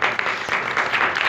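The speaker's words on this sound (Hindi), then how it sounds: "यीशु के लिए एक बार जोरदार तालियां" Church congregation applauding at a Christian worship service, a thick, fairly loud burst of many people clapping together, steady with slight swells, no voices on top.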